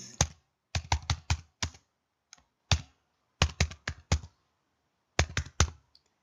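Bursts of quick keystrokes on a computer keyboard as a full name is typed into a registration form, close and crisp, in several short runs separated by pauses.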